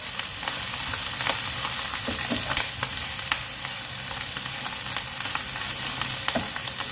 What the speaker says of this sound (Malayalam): അതിൻ്റെ പച്ച മണം മാറുന്നിടം വരെ ഒന്ന് മിക്സ് ചെയ്യാം.